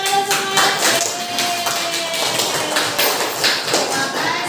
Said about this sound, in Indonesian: Nah, mari kita tepuk tangan untuk kita semua yang sudah bekerja keras menyelesaikan proyek yang dilakukan.